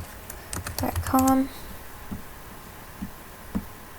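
Quick clicking keystrokes on a computer keyboard while an email address is typed, a short cluster of taps followed by a few isolated clicks, faint over a low room hum.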